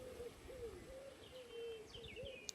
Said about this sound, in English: There's the wood pigeons